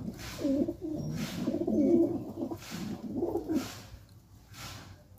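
A pet pigeon in a home coop gives a run of low, rolling coos in two main phrases, close and fairly clear, over faint background noise.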